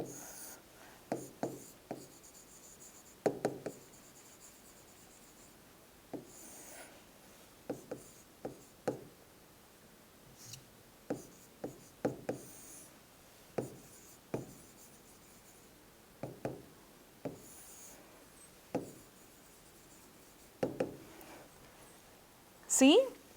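A pen scratches out a handwritten ledger entry for an accountancy lesson in short, repeated strokes, near and clear, with a teacher talking between the bursts.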